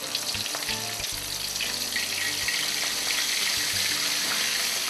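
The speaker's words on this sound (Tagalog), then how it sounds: "Mabilis lang ang pagprito niya, Edwin, ha?" Shrimp frying in hot cooking oil for spicy shrimp in coconut sauce, a steady loud sizzle lasting throughout with faint stirring and clinking beneath it.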